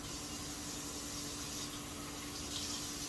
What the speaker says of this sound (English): Also going to wash my hands.